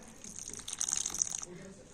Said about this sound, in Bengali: তো আবারও দুধ দেব।